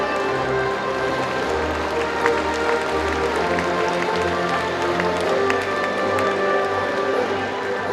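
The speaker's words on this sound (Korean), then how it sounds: "힘찬 소리와 응원의 박수 부탁드립니다." An audience at the opening ceremony of the 18th Gangwon disability sports festival applauds as the 144-member Donghae city athletes' delegation marches in, a sustained, loud wash of clapping that holds steady for the whole stretch.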